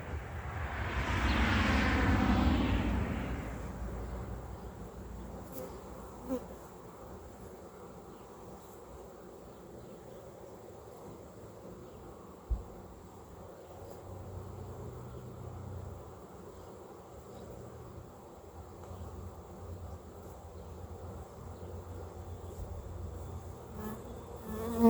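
Honey bees swarm out of an opened backyard hive during a hive split, a loud, dense buzzing that swells over the first few seconds and then fades to a steadier, quieter hum with scattered insect drone.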